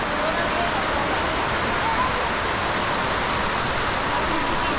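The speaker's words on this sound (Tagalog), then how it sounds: "Hindi namin magawa dahil hindi tumitigil ang ulan." Heavy, unrelenting rain pours down in a long seasonal downpour, a dense, even hiss with no pauses that fills the whole stretch.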